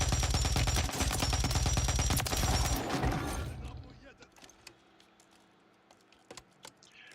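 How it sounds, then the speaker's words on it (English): Bursts of rapid gunfire in a video game, loud and dense for the first few seconds, then falling away to scattered, fainter distant shots and clicks. "There was some gunfire off to our left, but I don't see anything."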